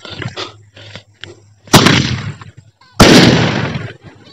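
A Diwali sky shot firecracker goes off outdoors: two loud, sharp bursts about a second apart, each trailing into crackling noise, with soft background sounds between them.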